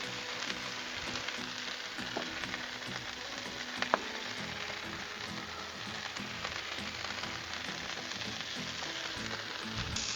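Butter sizzles and crackles on a hot Blackstone griddle as burger buns toast, a steady close frying hiss with scattered pops and no one speaking.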